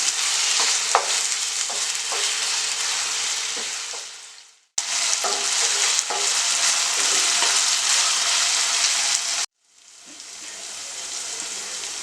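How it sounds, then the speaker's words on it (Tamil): Small cubes of chicken frying in a pan, a loud, steady close sizzle with faint stirring clicks, broken by two brief pauses where the noise cuts out before resuming. "அப்படியே வந்து நம்ம கொஞ்சம் நல்லா ஃப்ரை பண்ண போகிறோம்."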